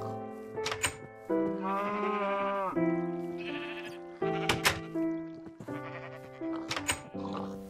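Several loud, close sheep bleats from Minecraft's farm animals, wavering calls repeating in a steady series with brief gaps, some overlapping, and no talking.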